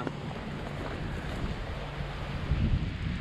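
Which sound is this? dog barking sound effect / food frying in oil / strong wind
strong wind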